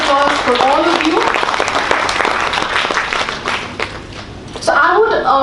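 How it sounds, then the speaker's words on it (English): Loud, close crowd applause at a Rally For Rivers event, continuous clapping with a speaker's voice heard over it at the start and again as it dies down. "A huge round of applause for all of you."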